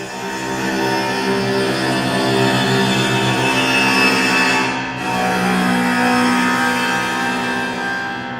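Sustained prepared piano strings, bowed with four strings tied together with rosin, drone steadily with rich, layered overtones, swelling and briefly dipping mid-way before resuming, loud and close with no voices.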